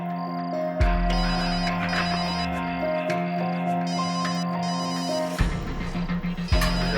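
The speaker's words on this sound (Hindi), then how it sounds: "फोन यहाँ आसपास ही बज रहा है।" A mobile phone rings nearby with a steady electronic ringtone melody that runs throughout, moderately loud and without speech over it.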